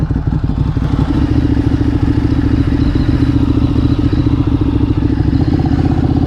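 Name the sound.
Ducati Streetfighter 848 motorcycle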